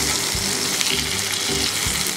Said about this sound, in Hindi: इसको अगर लो फ्लेम में फ्राई करेंगे तो ज़्यादा क्रिस्पी रहेगा